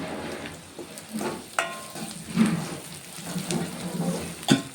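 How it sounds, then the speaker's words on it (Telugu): Two green chillies dropped into hot oil with ginger-garlic paste for a stuffed brinjal masala curry, crackling and sizzling up close with scattered pops and light stirring scrapes. "ఇప్పుడు ఇందులోనైతే ఒక 2 పచ్చిమిర్చి వేసుకుంటున్నా."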